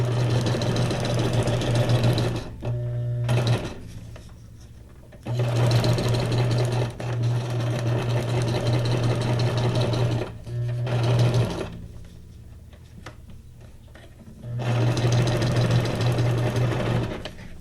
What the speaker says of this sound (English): In this case, it's not so much the pattern of the stitching, it's just that it's stitched.